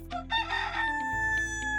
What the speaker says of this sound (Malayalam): ബാക്കിയുള്ള കോഴികൾ ഭയന്ന് ചിറകുകൾ അടിക്കാൻ തുടങ്ങി